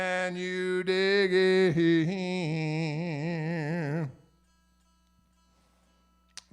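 Paul Reed Smith electric guitar played live in a small venue, a sustained bending melody with strong vibrato ringing for about four seconds before stopping abruptly into near silence.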